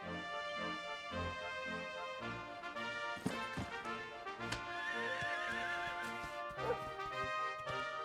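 A horse whinnies and neighs over tonal background music, with a few hoof clops; the sounds are clean and game-like, from Dragon Quest XI Definitive Edition on PS5.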